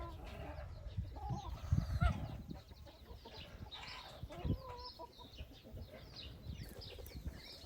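Backyard chickens and roosters cluck and squawk in irregular bursts while feeding, some calls close and others farther off, over a faint outdoor background.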